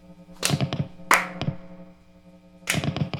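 Loud strums on a Kirk Hammett Student Series electric guitar: three bright, distorted chord hits with a gap of decaying ring between the second and third.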